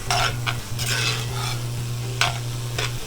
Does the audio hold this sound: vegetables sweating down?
yes